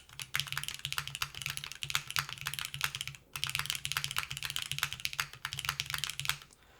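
Steady, fast typing on a mechanical keyboard with Alps-style switches, close and continuous, with crisp clacky keystrokes and a brief pause midway.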